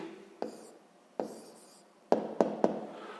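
A pen writes an answer on paper for a sixth-grade maths exercise, heard as scratchy strokes, each starting with a crisp tap, the last three coming close together, up close and alone.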